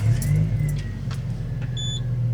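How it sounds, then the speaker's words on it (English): A Dodge truck from the OBD1 era starts up close by and settles into a low, steady idle, with a few light chimes and clicks from the cab near the end. "and we'll start the truck"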